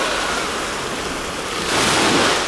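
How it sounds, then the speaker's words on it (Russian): Sea waves roll and wash onto Avsallar beach in a steady, loud surf roar that swells near the end, with no voices. "а волны реально сейчас, увидите какие"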